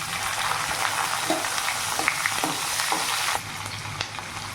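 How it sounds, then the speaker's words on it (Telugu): Onions and chana dal fry in a pan, a continuous close sizzle broken by light scraping stirs and small crackles, dropping slightly quieter toward the end. "ఉల్లిపాయలు కూడా వేసుకొని బాగా ఫ్రై చేసుకోవాలి"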